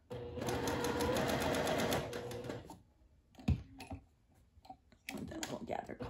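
A sewing machine stitches a seam on a sundress in a dense, continuous whir of rapid stitches for nearly three seconds, then pauses with a thump and handling sounds before running again briefly.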